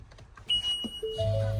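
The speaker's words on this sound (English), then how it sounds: "That's the alarms because the swivel seats are turned around and now it's not going to stop." A 2024 Ford Transit Trail van alarm, set off by turned swivel seats, sounds with a high electronic beep, then a lower sustained tone, fairly close and loud.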